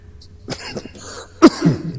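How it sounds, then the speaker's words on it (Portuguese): A close, sharp cough after a few small throat sounds, followed by a quieter rasping clear of the throat. "Me desculpem, acabei de tossir."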